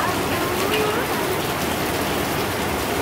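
Heavy rain pours down steadily and loudly, a dense unbroken hiss of drops drumming on surfaces close by, with no voices.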